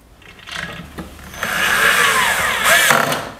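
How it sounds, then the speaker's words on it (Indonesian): Power drill driving fasteners while a dining table is assembled: a rising, buzzing whine that builds after a short pause and runs steadily close by, with no talking. "Buat kalian yang punya bor seperti itu di rumah, bisa dimanfaatkan tuh."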